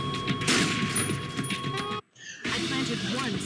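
Gunfire bursts from the video game Metal Gear Solid 3, loud and dense over game sounds, with a brief gap of near silence midway before the shooting noise resumes.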